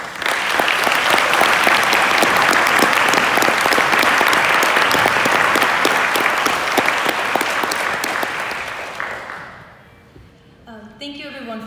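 Sustained, loud applause from an audience welcoming a keynote speaker at an IDHR and SIUC event, a dense wash of clapping for about nine seconds before fading out, then a voice begins speaking.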